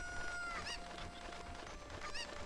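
Chickens in the video game Zelda: Ocarina of Time give a few short honking clucks over a constant quiet game background.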